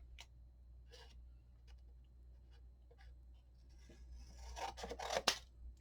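Paper pockets for a mini album are trimmed at an angle, with faint scratchy cuts and ticks that build to a few louder, close snips at the end.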